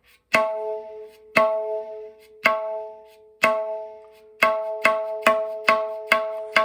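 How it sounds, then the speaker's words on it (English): Solo tabla open stroke "na", ringing clear tones struck one at a time, evenly spaced at first, then faster in a steady run near the end. "We are now at the point of learning the open stroke na."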